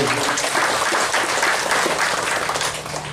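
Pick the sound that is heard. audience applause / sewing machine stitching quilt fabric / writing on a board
audience applause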